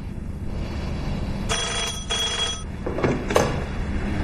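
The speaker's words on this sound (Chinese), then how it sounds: "雷鹏来电话了" A telephone rings in a spy drama scene, two long bursts of ringing followed by fainter clicks and knocks, over steady low background hum.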